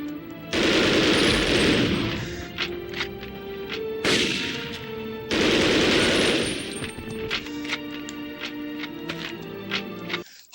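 Video game gunfire from rifle guards in Medal of Honor: Underground, with two long bursts of rapid automatic fire followed by a run of sharp single shots and metallic clanks, loud and close, no voices.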